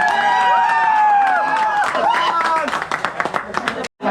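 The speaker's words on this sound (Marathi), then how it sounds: "ओके, टाळ्या." At a village cricket tournament semi-final, someone talks loudly over a crowd before a short burst of scattered hand clapping rises near the end.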